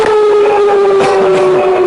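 A loud, steady siren wails continuously in a Spanish-speaking setting, a sustained tone with faint rising and falling overtones and no speech over it.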